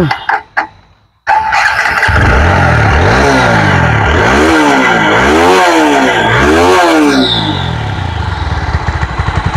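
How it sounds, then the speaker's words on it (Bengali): After a few clicks, a TVS Apache RTR 160 4V motorcycle engine fires up, revs loudly several times in rising and falling pulses, then settles into a steady idle. "বাইকটা স্টার্ট করব"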